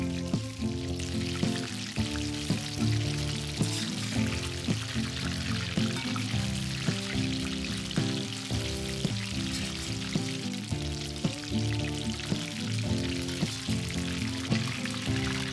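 Mushrooms deep frying in hot oil for chilli mushroom give a steady bubbling sizzle throughout, with scattered crackles and pops and no talk.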